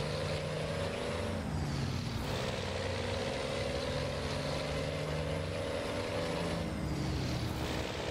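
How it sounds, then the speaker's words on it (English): A steady, droning Freightliner FLB truck engine, a Cummins M11, with a high, sustained transmission whine riding over it, continuous and fairly close throughout, in American Truck Simulator. "Now my transmission's making weird noises."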